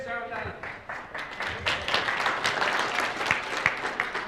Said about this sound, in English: You were clapping because I was done.